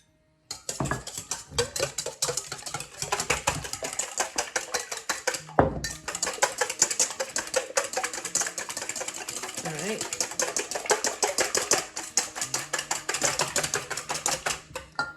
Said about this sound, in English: I'm going to start with the eggs just to beat it up a little bit